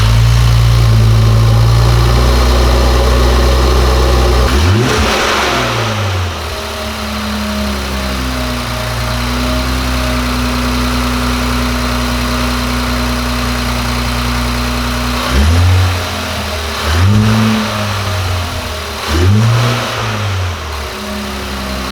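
A Nissan Z (RZ34) fitted with AMS intakes revs hard several times, with loud rising and falling engine sweeps separated by a steady idle, and no voices.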